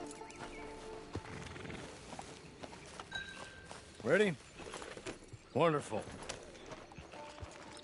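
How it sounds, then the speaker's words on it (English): Horse hooves clop along in a Red Dead Online scene, soft and intermittent under a voice speaking, with a couple of sharp louder vocal sounds and ambient game noise around them. "Get on the horse there."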